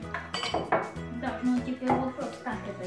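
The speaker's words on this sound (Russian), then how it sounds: "Да, разливать по кружкам." Mugs and a ladle clink and knock against each other as milkshake is ladled into mugs, a steady run of small ceramic and metal taps, with voices talking in the background.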